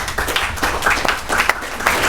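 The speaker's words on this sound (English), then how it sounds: "they deserve a round of applause" Audience at a county commissioners meeting breaks into applause, a dense patter of many hands clapping at moderate volume, steady across the short stretch with no voices over it.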